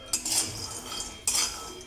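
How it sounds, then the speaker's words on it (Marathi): Peanuts are dry-roasted in a pan over low heat, stirred with a metal utensil that scrapes and clinks against the pan in two short bursts with quiet rattling between. "सुरुवातीला शेंगदाणे भाजायला सुरुवात करूया। कमी गॅसवर भाजून घ्यायचे शेंगदाणे।"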